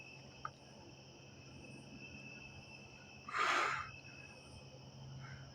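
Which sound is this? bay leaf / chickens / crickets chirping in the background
crickets chirping in the background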